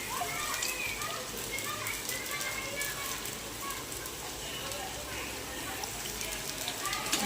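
Potatoes fry in hot oil, giving a steady close sizzle with dense crackling and popping throughout, while a voice talks faintly over it.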